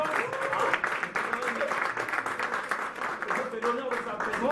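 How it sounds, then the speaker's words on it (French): Crowd applauding the president of an agglomeration at a municipal gathering, continuous clapping with a few voices and cheers talking over it. "Je vous demande quand même de l'applaudir."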